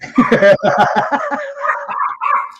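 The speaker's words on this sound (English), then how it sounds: "That would be our little Chihuahua having fits for we don't know why she's barking." A small Chihuahua indoors lets out a rapid run of high yappy barks, then trails off into whiny, whimpering yips, close and loud.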